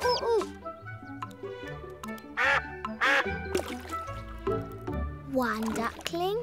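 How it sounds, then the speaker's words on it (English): Cartoon ducklings give high, bright quacks in a Miffy animated series. The quacks come in short clusters mixed with lively animated voices. "One duckling."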